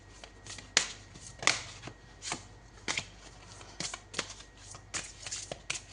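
Tarot cards being shuffled in a series of crisp, close riffling bursts, roughly one every half second, with soft rustling between them.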